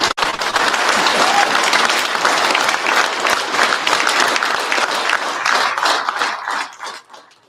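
Loud, dense audience applause rolls through a Drag & Drive awards ceremony at the PRI 2025 show, holding steady for several seconds before tapering off at the end.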